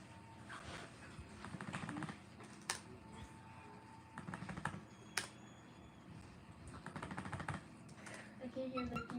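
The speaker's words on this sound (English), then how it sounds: "I can hear the keyboard going." Rapid computer keyboard typing with clustered clicking bursts, fairly faint, mixed in among people talking and background chatter from a broadcast.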